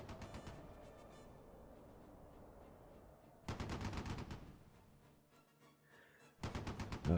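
Bursts of heavy machine gun fire in the Close Combat 3 war game, two dense loud volleys separated by a quieter rumbling stretch, with a third burst starting at the end.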